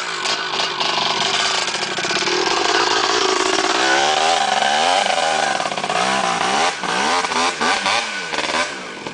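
A Yamaha DT-200 dirt bike accelerates hard along a dirt trail near an embankment, its engine loud and close, revving and roaring continuously with rising and falling pitch throughout.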